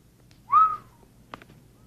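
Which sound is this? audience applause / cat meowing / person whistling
person whistling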